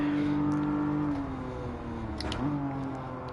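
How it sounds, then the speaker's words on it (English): A race car engine in Gran Turismo 7 drones steadily at high revs, a sustained loud tone that dips slightly and climbs again as the throttle shifts, with no talking. "The car sounds good actually, guys."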